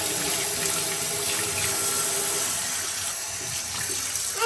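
Kitchen tap runs in a steady, continuous stream while someone washes their face at the sink, close and fairly loud, with no talking.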